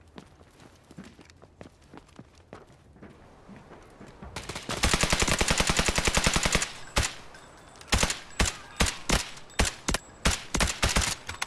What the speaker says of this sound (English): You hear gunshots outside.